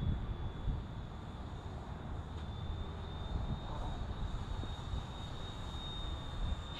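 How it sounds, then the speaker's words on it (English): An E-Flite Timber Turbo RC airplane flies at a distance, its electric motor giving a faint, steady high whine over a low outdoor rumble at sunset. "The E-Flite Timber Turbo, flown by Pilot Vito"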